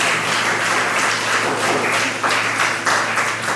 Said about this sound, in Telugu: ఒకసారి బాగున్న వాళ్ళు గట్టిగా చప్పట్లు కొట్టండి.